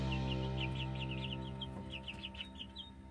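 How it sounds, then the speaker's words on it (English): A nine-year-old rooster clucks in a quick run of short, bright notes, then a few more scattered clucks, close by over a steady low background hum. "This rooster right here is 9 years old"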